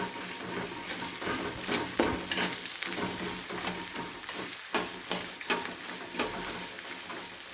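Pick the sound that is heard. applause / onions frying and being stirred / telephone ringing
onions frying and being stirred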